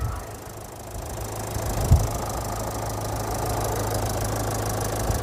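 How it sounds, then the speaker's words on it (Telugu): A 2014 Toyota Etios Cross diesel engine idles smoothly and steadily up close, with one short knock partway through. "Diesel engine sir. సౌండ్ ఎంత స్మూత్గా ఉందంటే చాలా స్మూత్గా ఉంది సార్."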